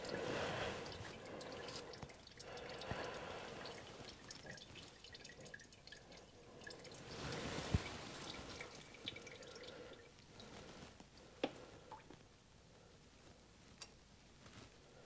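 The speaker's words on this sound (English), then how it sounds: "Let's go ahead and crack this bleeder open." Brake fluid drips from an opened bleeder valve on a 2005 Ford F-350 during a brake bleed, giving scattered, faint irregular drips and small splashes over a low background hiss, with no talking.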